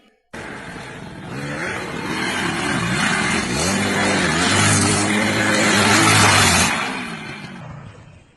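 A motorbike engine revs up close and loud, rising in pitch and intensity over several seconds before dropping away, with no voices.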